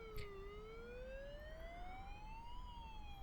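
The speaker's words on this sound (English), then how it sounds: "somewhere a distant siren wept before fading into the dark" A faint, far-off siren wails, slowly sweeping down and then up in pitch, with low traffic rumble underneath.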